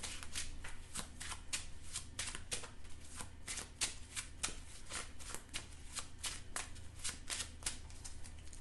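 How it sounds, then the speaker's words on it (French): A deck of Marvel Champions game cards is shuffled close up, giving a quick, regular run of crisp riffling snaps that repeats through the whole stretch. "Et je remélange"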